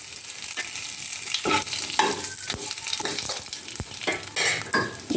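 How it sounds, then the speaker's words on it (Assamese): Dried red chillies, whole cumin seeds and a bay leaf sizzle in leftover fish-frying oil, a steady close crackle with occasional stirring scrapes and no talking. "মই মাছ ভজা তেলতে 2টা দি দিছোঁ শুকান জলকীয়া, কোনকুনি জলকীয়া দিছোঁ দেই মোৰ বাৰীৰে, অকণমান গোটা জিৰা, লগতে তেজপাত এখিলা"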